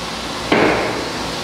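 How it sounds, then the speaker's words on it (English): A 2008 15-foot TigerStop TigerSaw automated optimizing saw cycles through a cut, giving one sudden sharp hit that tails off quickly over a low, steady machine hum. "It's gonna cycle the saw"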